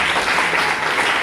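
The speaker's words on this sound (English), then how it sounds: "Clap for Jesus." A congregation claps steadily during a church sermon on baptism, with dense, loud applause filling the whole moment and no talking over it.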